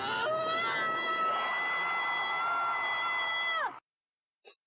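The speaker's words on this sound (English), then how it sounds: "Scream." A voice-acted scream from a visual novel rings out loud and sustained for several seconds, high and breathy, then cuts off abruptly into silence with a faint trailing sound.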